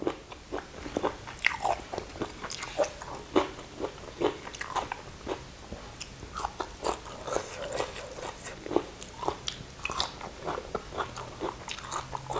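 Crunchy chewing of a spicy Thai bamboo shoot salad with giant octopus tentacles: close, repeated crisp bites and chomps come in an uneven rhythm throughout, with no talking.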